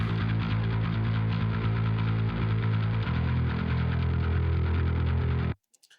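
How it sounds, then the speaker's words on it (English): A bass guitar played through a Parallax preset with basic EQ and compression gives a thick, steady low tone. The held notes shift pitch partway through, then cut off abruptly into silence. "Bass sounds like this."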